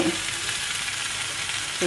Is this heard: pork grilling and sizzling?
yes